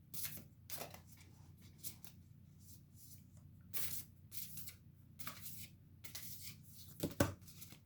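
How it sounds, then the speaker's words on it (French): Angel oracle cards are shuffled and drawn from a deck, with soft papery swishes and flicks in irregular bursts, quiet and close, ending in a sharper slap. "je vous tire une carte du Conseil des anges"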